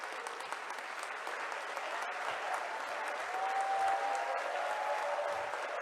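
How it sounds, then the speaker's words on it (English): A crowd applauds at a send-off ceremony for the Team Philippines delegation, a sustained, even roar of many hands clapping in a large hall, with a faint tone sounding briefly partway through. "Let's give Team Philippines a big round of applause"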